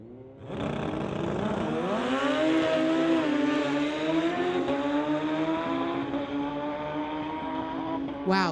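A Suzuki Hayabusa motorcycle makes a drag racing pass at a street legal drag event, its engine howling loudly as it climbs through the gears with rising pitch sweeps, then holding a sustained high-revving scream before trailing off.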